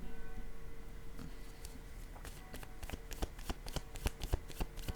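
Playing cards are shuffled by hand in a quiet room, first soft rustling, then a run of quick, crisp riffling snaps close by, with no talking.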